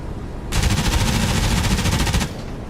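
A sustained, rapid burst of aircraft machine gun fire in the DCS WWII flight simulator game rattles loudly for nearly two seconds, then cuts off abruptly, over engine drone.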